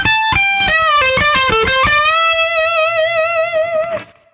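Electric guitar lick from a solo, a quick run of picked notes climbing into a sustained bent note that rings out with vibrato, loud and alone before cutting off.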